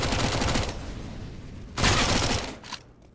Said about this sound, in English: SMG kill for Spallan, more money to be made